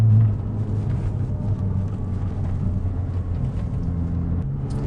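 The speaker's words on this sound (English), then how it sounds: "Get that nice little burble back through the exhaust there." Twin-turbo 2001 Porsche 911 Turbo 996 exhaust burbling at quarter throttle on an Australian road, a low steady rumble with wind noise over it, heard from inside the car.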